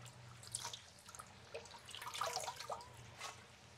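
Jute leaves are washed in water, producing faint, scattered splashes, drips and trickles. Some sloshes come louder now and then, and no one talks.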